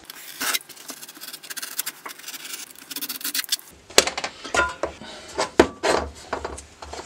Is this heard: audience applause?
no